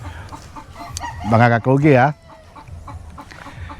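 Farm chickens of Negros stock, with a loud harmonic crowing-like call from a rooster standing out for about a second near the microphone, over softer background clucks and farmyard murmur while a person speaks briefly.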